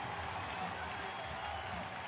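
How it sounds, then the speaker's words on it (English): Big ballpark crowd at Guaranteed Rate Field during a White Sox baseball game against the Angels, a steady broadband roar of cheering and applause filling the stadium, continuous and fairly distant, with no distinct voices standing out. "Keenan Middleton trying to rev up a big crowd here at Guaranteed Rate Field tonight"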